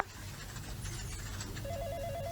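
A cellphone rings in an indoor drama scene, a steady electronic ringtone that rises into a clear warbling two-tone pattern near the end, heard alone over a low background hum.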